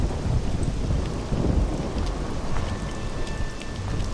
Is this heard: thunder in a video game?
yes